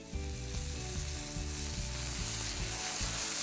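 Onions, mushrooms and tomatoes sauteing in a pan for a frittata, a loud continuous sizzle close up with no talk.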